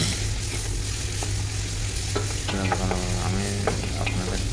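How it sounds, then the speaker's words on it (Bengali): Ginger garlic paste frying in oil with cloves and black peppercorns, a steady loud sizzle throughout with occasional scraping stirs and small crackles close up. "এখন অ্যাড করে নিচ্ছে আদা রসুন পেস্ট 3 চা চামচ। এগুলোকে ভালোভাবে ভেজে নেব।"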